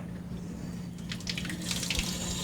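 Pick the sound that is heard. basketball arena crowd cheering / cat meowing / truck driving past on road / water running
water running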